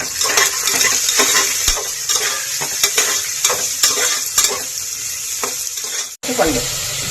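Onion and green chilies fry loudly in a pan for the Siraku Pulagora leafy dish, a steady close sizzle broken by frequent scraping stirs and clinks of a spatula against the metal, with no voices.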